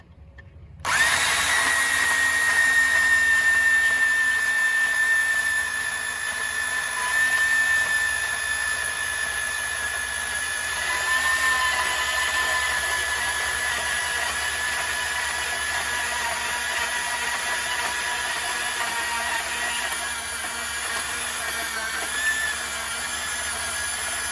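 A power tool grinds steadily through a steel weld on a motorcycle lift being converted into a riding mower lift, a loud, continuous whine with a sustained high tone that runs nearly half a minute with no talk.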